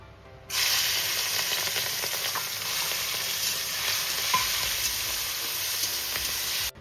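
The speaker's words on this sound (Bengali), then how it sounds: "প্রথমে চিংড়ি মাছটা আমি ভেজে তুলে নেব।" Shrimp coated in salt and turmeric frying in hot mustard oil, a steady close sizzle that starts abruptly and holds evenly, with occasional small pops, then cuts off at the end.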